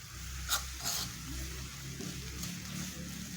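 Organic black soap mixture being stirred with a fork, producing soft scraping and clicking against the bowl in irregular strokes over a low, steady hum.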